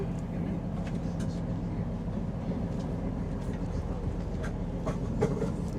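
A train rumbles steadily, carriage noise and faint clicks of the rails under it as it slows pulling into Huddersfield station, with occasional voices in the background.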